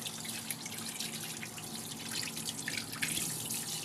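Peeled cassava being washed under a running tap: a steady, bright rush of water splashing over the roots with small irregular splatters, close and continuous throughout, no speech.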